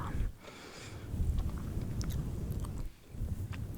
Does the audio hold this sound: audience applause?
no